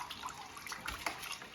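Water is poured into a large aquarium tank during a swap from a 200-gallon to a 100-gallon tank, a faint, continuous splashing trickle.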